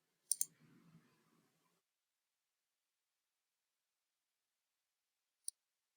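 Two sharp computer mouse clicks on a laptop sound close together at the start, followed by a softer rustle, then a single isolated click several seconds later in otherwise near silence.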